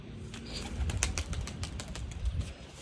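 Pet pigeons coo softly nearby amid rustling and low background noise, a few soft calls over under three seconds.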